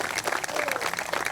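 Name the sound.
audience applause for teachers and administrators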